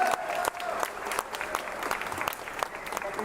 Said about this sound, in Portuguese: uma salva de palmas ao nosso pré-candidato a deputado estadual, Gustavo Camilo